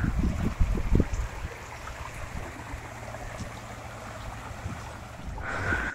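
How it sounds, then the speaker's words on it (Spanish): A small stream of running water on a rocky hillside trail near Puente Carrión, Chosica, Peru, gives a soft, continuous rushing wash, with a few louder rustles at the start and a brief bump at the end. "Una pequeña corriente de agua."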